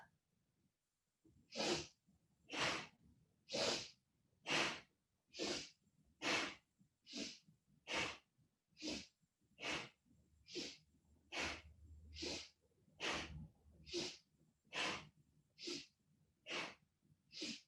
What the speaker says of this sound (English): breathing through your nose, a nice, powerful, strong breath.